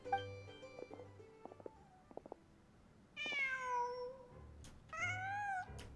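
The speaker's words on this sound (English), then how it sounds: "Just a cat." A cat in the Genshin Impact video game gives two clear, rising-then-falling meows over a soft game soundtrack, the second meow following about two seconds after the first.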